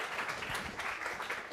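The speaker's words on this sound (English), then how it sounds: "Please give a warm round of applause for Sam Sampson." Brief, moderately loud burst of audience applause in a lecture hall, a steady wash of clapping welcoming a university spokesman to the stage.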